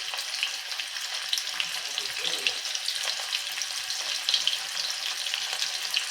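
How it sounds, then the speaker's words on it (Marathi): Paneer pieces deep-fry in oil on high heat, giving a dense, continuous crackling sizzle with small popping bursts throughout, close and steady, no voices. "हाय वरती हे पनीर छान पैकी आपल्याला गोल्डन ब्राऊन वरती सर्व पनीर तळून घ्यायचे आहे"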